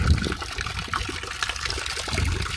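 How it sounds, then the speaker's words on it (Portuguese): Water being poured onto the condenser of an excavator during maintenance, a steady broadband trickling and splashing that stays fairly even throughout, close and moderately loud with no speech over it. "E aí a gente vai jogar água aqui"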